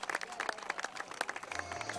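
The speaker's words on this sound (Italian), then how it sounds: "Facciamo un applauso" Brief applause at a women's cycling team presentation, brisk claps from a gathered crowd mixed with chatter and background noise, short and fairly close.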